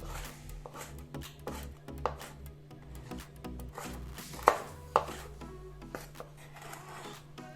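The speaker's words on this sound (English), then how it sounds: "Then we will chop them into small bits." Crisp-fried Canadian bacon is chopped into small bits on a board, a run of irregular close knife taps and scraping strokes with a couple of sharper louder chops, no voices.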